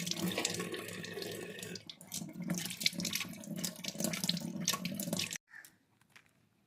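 Oranges being washed under a running kitchen tap, a steady close splash of water hitting the fruit and sink for about five seconds, then the flow stops and a few drips and faint handling sounds follow.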